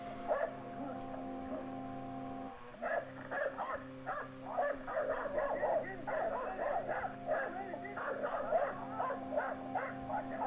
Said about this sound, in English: Again with the dog. I really don't like that dog a bit.